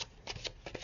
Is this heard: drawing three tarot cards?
yes